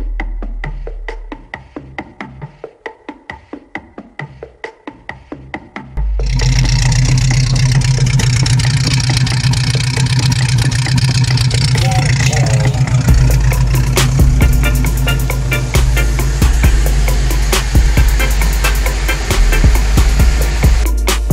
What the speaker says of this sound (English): this is the best exhaust I have ever heard